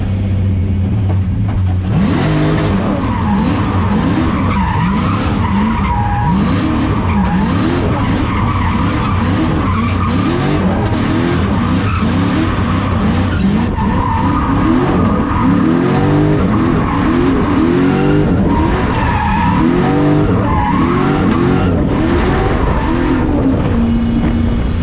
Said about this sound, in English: And the car absolutely ripped.